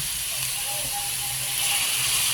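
Hot cooking broth poured into a pan while making pacham, producing a loud continuous steamy hiss that swells slightly toward the end, with a voice speaking faintly underneath.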